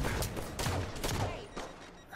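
Gunfire in the video game Halo, a rapid cluster of sharp shots in quick bursts, loud and close, with no talk.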